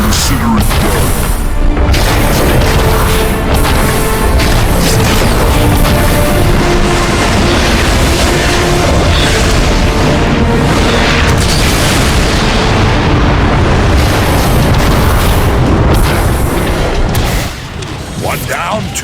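Heavy explosions roar as the giant Metroplex blasts a warp cannon in the video game Transformers: Fall of Cybertron, a dense, loud barrage of booms and rumbling blasts that continues almost unbroken before easing off near the end.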